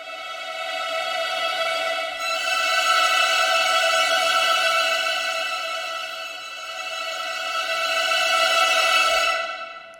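Violins hold a bright, sustained whole-tone trill in octaves, swelling and fading over several seconds before stopping abruptly, with no talking.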